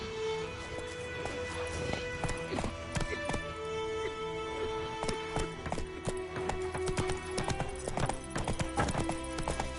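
Roach, the horse in The Witcher 3, gallops with rapid rhythmic hoof clip-clops over game music, steady and fairly close, with a brief whinny-like call.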